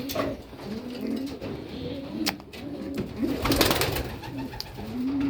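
Racing pigeons coo repeatedly nearby, soft low throaty calls overlapping in a steady rhythm, with occasional rustling and wing flutters.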